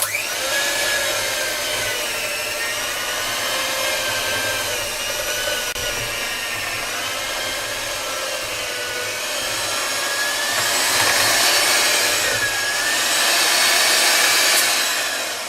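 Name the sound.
electric mixer kneading sourdough bread dough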